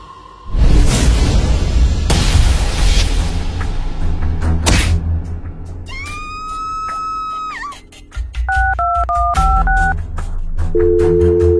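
A phone dials out in a Sakura School Simulator drama: after a whoosh and thuds, a long steady ringback tone plays, then a series of short two-tone beeps and a lower repeating tone as the call goes unanswered, loud and alone.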